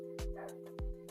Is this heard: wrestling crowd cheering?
no